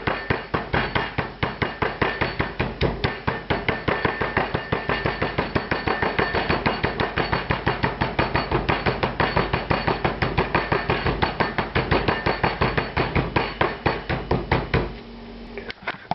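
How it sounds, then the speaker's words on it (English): A mallet pounds raw chicken flat on a board for a rice plov dish, rapid steady thuds repeating for about fifteen seconds, loud and close, then stopping abruptly. "rough edge of the mallet. Flatten it out. Break up some of that muscle tissue so that it's softer"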